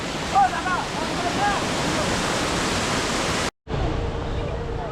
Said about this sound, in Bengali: বরফ জমা জল কিন্তু ঝর্ণা হয়ে চলে আসছে